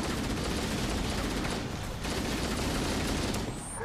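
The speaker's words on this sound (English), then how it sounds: "Wow, that's a lot of explosions." Explosions and gunfire in a video game, played during a women-in-gaming charity stream. They form a dense, continuous roar of blasts and rapid shots at steady high loudness throughout.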